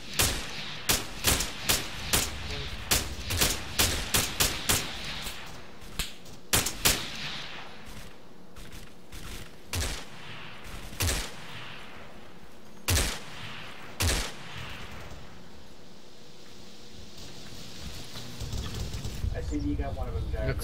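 Gunfire in a military video game operation: loud, rapid bursts of rifle and machine-gun shots dominate the first seven seconds, then sparser single reports and short bursts, with voices speaking over the battle.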